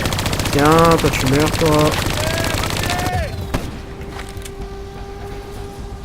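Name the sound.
turret machine gun firing in Call of Duty: Black Ops 3 video game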